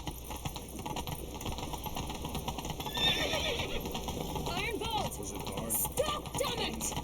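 Horse neighing with hoof clip-clop in The Witcher 3, layered under game music and a voice, with a whinny rising around the middle and hooves continuing throughout.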